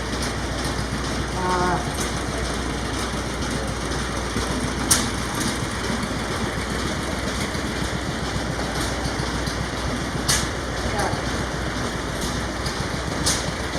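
A vintage all-diesel power engine running at a machinery show, a dense steady mechanical rumble and clatter with occasional sharp clanks, continuous and loud with no clear talk.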